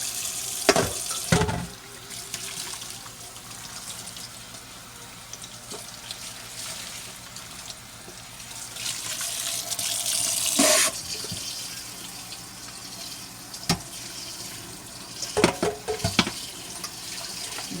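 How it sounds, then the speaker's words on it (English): A strainer rinsed under a running kitchen tap while making shrimp fettuccine Alfredo, a steady close stream of water with clanks and splashes scattered through. "Washing the strainer to prevent cross-contamination."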